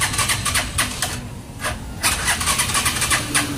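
A Euro Daanhari 150 motorcycle with a fault after being soaked in rain is kick-started, making repeated rapid cranking bursts that sputter without catching, close and loud.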